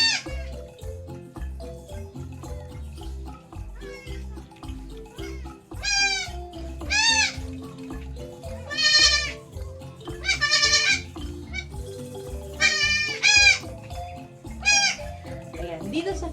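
Several young goat kids, about three days old, bleat on a farm in repeated high wavering calls spread across the stretch, rising over a steady low rumble, with a person talking in between.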